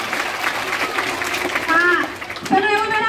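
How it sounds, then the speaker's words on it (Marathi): Children in a village primary school classroom clap for a classmate after a counting game, a busy burst of clapping heard under a teacher's voice and children's chatter. "टाळ्या वाजवा याच्यासाठी."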